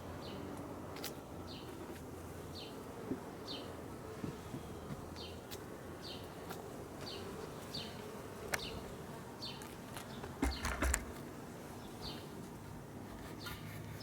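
Honeybees buzz steadily around an open hive during a first hive inspection, a constant droning hum broken by a few light taps and clicks of handling.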